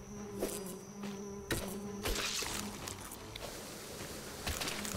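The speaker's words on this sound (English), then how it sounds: "Oh God, it sounds like a mosquito." High, whining insect buzz like a mosquito in the medieval video game Arthurian Legends, droning steadily near the ear over scattered footstep-like thumps and clatter, with no talking.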